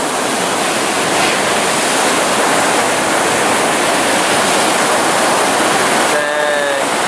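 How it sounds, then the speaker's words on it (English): The incoming tide sends waves washing up the shore in a steady, loud, close roar of surf, with a brief tonal whistle near the end. "Ooh, the tide's coming."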